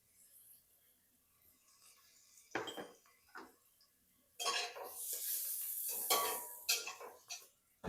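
Garlic and spices stirred in oil in a pot for a Moroccan chickpea stew, with close scraping spoon strokes and soft sizzling bursts after a quiet start.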